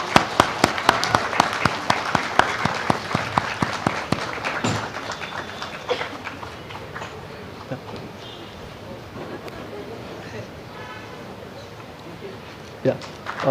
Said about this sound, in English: Please, let's have one more round of applause.